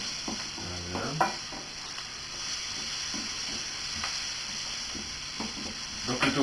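Close, quiet sizzling of tofu frying in a skillet, with intermittent scraping and tapping of a spatula being stirred through it over a continuous hiss.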